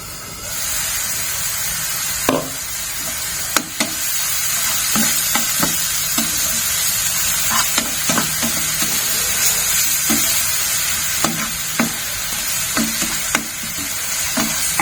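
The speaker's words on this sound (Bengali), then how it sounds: "এখন দেখো মটরটা ভাজা ভাজা হয়ে গেছে" Peas and spices frying in a pan, a continuous close sizzle broken by repeated clinks and scrapes of a spoon stirring against the pan, no talk.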